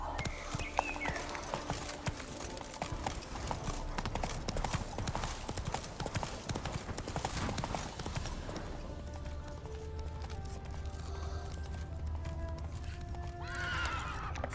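Roach the horse's hooves clip-clopping in The Witcher 3 game, a steady galloping rhythm with a whinny, busy music and effects early, then a quieter stretch of hoofbeats.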